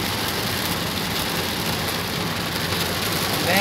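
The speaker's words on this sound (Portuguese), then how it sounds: "Muita chuva, bolsões." Heavy rain on the Nova Dutra highway in Brazil heard from inside a moving car, a steady dense hiss of rain and road spray over a low engine hum, with no voices.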